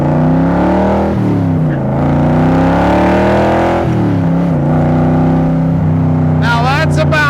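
A 1965 Shelby Cobra Superformance with a 500 cubic inch Ford big block revs up at about half throttle, its loud deep engine note climbing through several gear changes close by, with someone talking over it.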